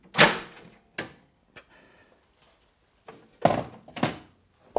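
Side panel of a DEC VAX 4000 Model 200 computer case being handled and pulled off: a few hollow thunks and clattering knocks of metal and plastic, close and fairly loud, with quiet gaps between them.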